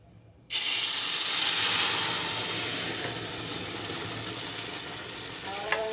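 Chili hits hot oil in a clay cazuela with a sudden loud sizzle, then keeps hissing and crackling steadily, softening slightly as it continues in a home kitchen.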